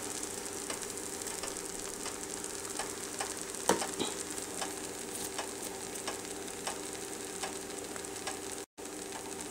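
Cardamom powder and milk powder being mixed in a pan for sweet roti, a quiet, continuous sizzle with soft, regular ticks and scrapes from the stirring and one brief clack partway through.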